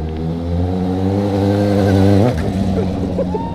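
Close, loud Suzuki GSX 750 motorcycle engine revving steadily, pitch climbing for about two seconds before cutting off sharply into a rough idle with pops.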